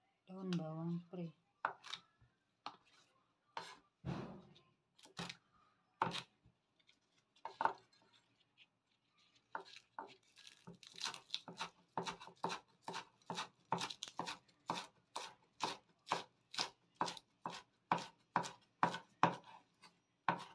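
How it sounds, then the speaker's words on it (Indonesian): A knife chopping leek on a cutting board, first in scattered cuts between pauses and then in a fast, even run of crisp thuds, close up and moderately loud, with no talk. "Lalu kita potong daun bawang pre."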